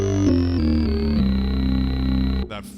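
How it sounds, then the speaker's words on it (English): A buzzy, gritty digital-distorted tone from a vintage Kawai K3 synthesizer holds steady with a few stepped pitch changes, loud and close, then breaks off into a short noisy burst. "You can hear that wonderful digital gritty distortion"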